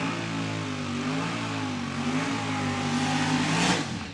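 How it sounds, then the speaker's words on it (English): A third-generation Camaro drag car with big horsepower on small tires revs its engine at a drag strip, a loud steady roar that climbs in pitch toward the end, heard alone. "This third generation Camaro with the big horsepower, trying to get it all put to the ground with those small tires."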